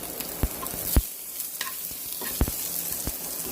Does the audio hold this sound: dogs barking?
no